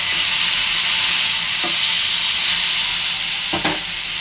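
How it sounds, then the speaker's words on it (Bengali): Okra frying lightly in a pan for a fish curry, a steady loud sizzle and hiss throughout with a few brief stirring scrapes, close up and with no voices. "ভেন্ডিটা বেশি ভাজবো না, হালকা ভাজা দিব"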